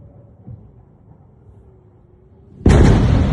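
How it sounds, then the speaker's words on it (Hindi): A loud explosion from an Iranian missile strike on Israel: a low, distant rumble builds quietly, then a sudden, powerful blast erupts near the end and keeps roaring at full volume. "Loud explosions heard in video, यानी भारी धमाका, आवाज भी वाकई बड़ी धमाकेदार रही।"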